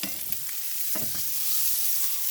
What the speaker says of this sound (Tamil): இப்போ பாருங்க நாங்கள் போட்ட முட்டை நல்லா பொரிஞ்சு கொண்டு வந்திருக்கு ஆக பொரிய தேவையில்லை இந்த எண்ணெயில் சாதுவாக